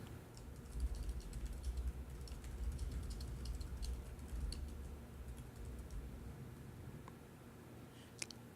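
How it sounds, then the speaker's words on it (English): Faint, steady clicking of text being typed on a computer keyboard, continuous keystrokes at low level over a background hum, with one sharper click near the end. "And here, I'll type some text."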